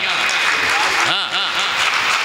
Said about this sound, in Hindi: एक बार जोरदार तालियां बजाते हैं,